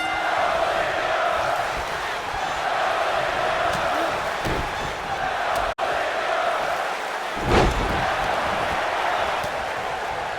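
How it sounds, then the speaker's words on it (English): A wrestling arena crowd cheers in a steady, distant roar that holds throughout, with a brief swell near the end. "There's a bunch of sadists out there cheering for Ziggler?"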